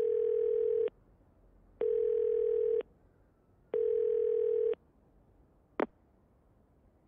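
Dial tone from a phone booth in Yakuza 0 plays as three steady, evenly spaced beeps, each about a second long with gaps between them, followed by one short click near the end and no voices.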